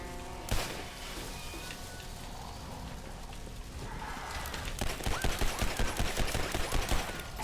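Rapid bursts of gunfire in the post-apocalyptic shooter game Legendary, set in a fallen New York, building into a dense rhythmic volley in the second half over a steady rumbling game backdrop.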